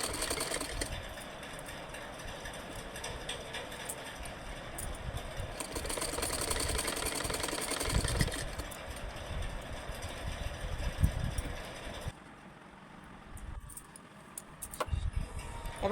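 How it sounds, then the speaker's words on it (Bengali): A sewing machine stitches a shortened nightie in a steady mechanical whir, running continuously and fairly close, with brief changes in pace and a quieter stretch near the end. "এবার মেশিনে সেলাই করে নিতে হবে।"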